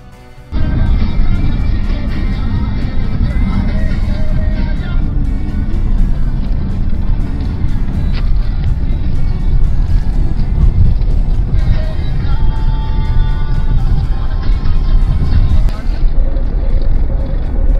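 A car drives at night along the NH-12 highway on the way back from Mayapur, with a steady interior engine and road hum and wind rushing around the cabin throughout.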